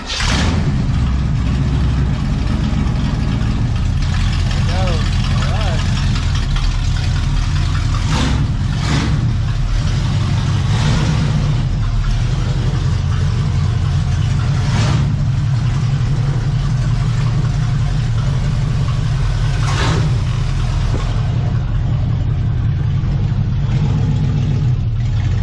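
Truck engine idling and revving steadily while hooked up to pull another truck, a loud continuous low rumble with occasional surges and rattles, close by throughout.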